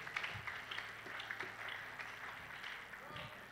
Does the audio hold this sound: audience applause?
yes